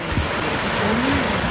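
Swollen creek surging in a sudden rush after dam floodgates were opened upstream, a loud, steady broadband roar of fast-moving water with wind-like noise, continuous and close throughout, no voices.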